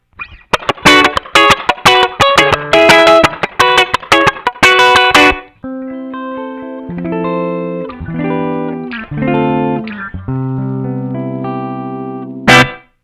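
Guitar played through a Strymon BlueSky reverb pedal with its decay turned to minimum: a busy run of loud picked chords and notes, then sustained lower notes, ending with a sharp strum, with little lingering tail.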